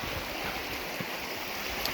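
Water rushes steadily over small falls along Sulphur Creek in a Capitol Reef canyon, a continuous close, broadband wash without voices.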